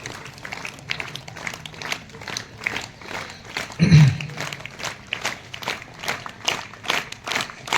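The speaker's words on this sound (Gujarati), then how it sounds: "તાળીઓ" An audience claps at a school maths rally, a light, scattered patter of hands running steadily throughout with a brief louder rumble midway and some voices underneath.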